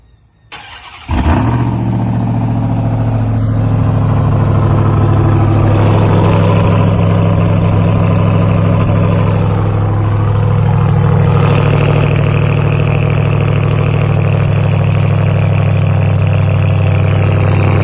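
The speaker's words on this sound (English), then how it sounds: "your first sound of that big boy Hemi V8 Hellcat powered TRX in the wild" A 2021 Ram TRX pickup's Hellcat-powered Hemi V8 cranks and fires up, then settles into a loud, deep, steady idle with a throaty rumble that runs on unchanged.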